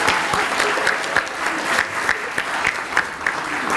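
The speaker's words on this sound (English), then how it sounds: "Could we have one more round of applause for West Elementary School?" A crowd at an elementary school event claps steadily in sustained applause, with a few sharper claps standing out near the front.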